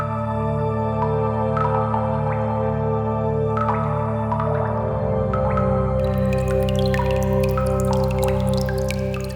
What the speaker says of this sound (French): cette eau atteint le plafond de grottes d'où elle tombe,